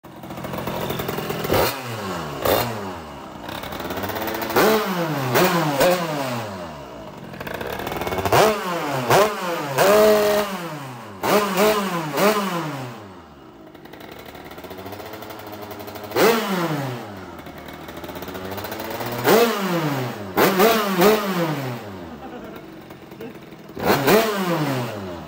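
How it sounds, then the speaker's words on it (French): Restored Derbi motorcycle two-stroke engine running with a hand-worked throttle cable, revved repeatedly in sharp rising bursts between lulls, close and loud. "Honnêtement la moto a déjà démarré."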